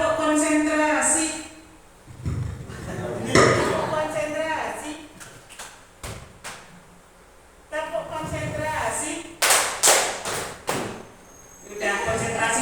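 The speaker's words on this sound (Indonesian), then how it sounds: "Tepuk konsentrasi." Classroom group doing rhythmic concentration clapping, sharp bursts of claps in patterned sequences alternating with a teacher's spoken cues; claps loud and close, separated by stretches of talk.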